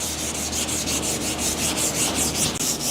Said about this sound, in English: you can put a nice firm push on the sandpaper and get it to block